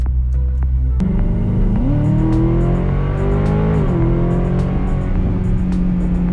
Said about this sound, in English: I think the car definitely accelerates as you'd expect it to from the driver's seat.